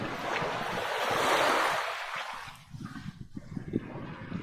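Sea waves wash in at French Beach under heavy gusting wind, a broad rushing surge that swells and then fades into choppier, nearer splashing.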